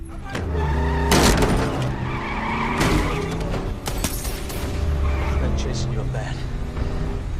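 A police car skids and screeches through a reckless movie chase, with repeated tire squeals and revving engine bursts, under a voice talking throughout.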